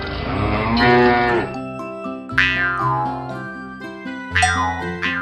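A cow moos loudly once, a long low drawn-out call, followed by bright bell-like tones ringing repeatedly.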